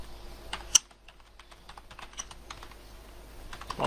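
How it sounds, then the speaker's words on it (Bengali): Computer keyboard typed on while names are entered into a spreadsheet, quick light irregular key clicks with one sharper tap near the start, close and soft. "আমরা এখানে লিখি মোহাম্মদ ফাতেমা আক্তার।"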